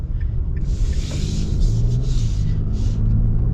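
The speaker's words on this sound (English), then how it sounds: "the V6 isn't struggling to move this at all" A 2025 Nissan Frontier PRO-4X long bed with a V6 drives steadily, its engine a low, continuous rumble beneath road and cabin noise, with a few brief hissy swells on top.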